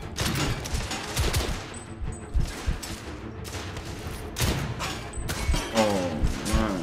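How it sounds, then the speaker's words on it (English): A coach gun shotgun fires in a Victorian-era action game, with several loud, close blasts and bursts of gunfire spaced irregularly through a tense firefight. "Coach gun. Oh, shotgun."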